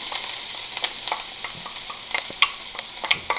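Onion goes into a hot, smoking pan of oil and sizzles, with crackles and stirring scrapes scattered through a short, close sizzle and no one speaking.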